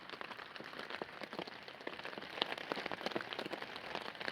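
Rain patters steadily on a tarp rigged over a camping hammock, a dense, close drumming of drops with scattered louder hits and no voices.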